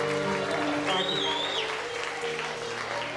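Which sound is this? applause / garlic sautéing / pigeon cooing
applause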